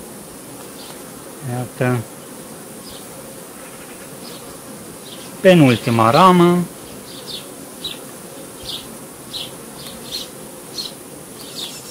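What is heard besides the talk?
honeybees buzzing around hive frame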